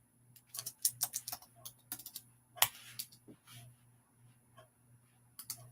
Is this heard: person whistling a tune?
no